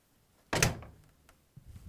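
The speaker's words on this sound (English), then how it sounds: "And now we can close the door." An LG front-loading washing machine door, with its door boot seal removed, swings shut with one firm thunk up close. A short fading rattle and a faint knock follow.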